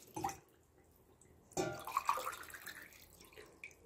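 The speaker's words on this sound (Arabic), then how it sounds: "كنضيف ليه ربعة الكيسان ديال الماء" Water poured into a cooking pot of sugar to make honey syrup for Ramadan chebakia, arriving as two splashy pours with a pause between, close and fairly loud.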